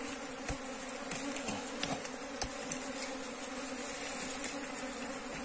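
Bees buzz around a hive left behind after the colony swarmed, a dense, continuous close-up drone with insects darting past the microphone and no talking.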